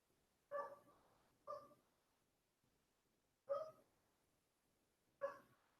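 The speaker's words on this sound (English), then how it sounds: "We have many dogs are barking." A dog barks four separate times at irregular intervals, each bark short and clear with quiet pauses between; only one dog is evident.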